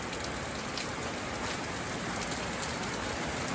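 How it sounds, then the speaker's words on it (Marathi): Steady rain pours down in a dense, even hiss of drops hitting surfaces, close and uninterrupted, with no voices. "पावसाला एन्जॉय करा."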